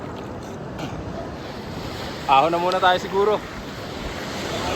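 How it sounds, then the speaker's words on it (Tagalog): Strong ocean surf crashes and rolls steadily at a beach, with wind buffeting the microphone throughout, while a person speaks briefly in the middle over the continuous roar of the waves. "Ano din ang kalalakas yung alon eh."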